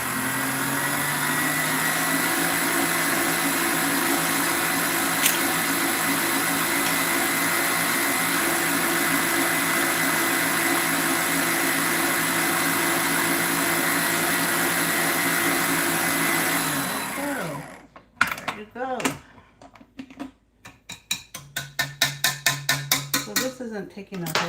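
A stand mixer beats sweet potato souffle mixture with a steady, loud whir for most of the span, then stops abruptly, leaving short clattering bursts as the beaters knock against the bowl.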